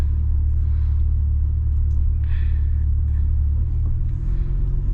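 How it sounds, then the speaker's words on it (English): Steady low engine rumble and exhaust drone from a C8 Corvette in sport mode cruising at speed on a highway, constant and close, with road noise underneath. "I got the car in sport so you guys can hear the exhaust a little bit"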